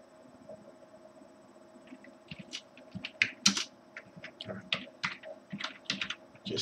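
Rapid, irregular keystrokes on a computer keyboard while typing code for a JSON parser, close and clear, starting sparse and growing into dense bursts of clicks, with no talking.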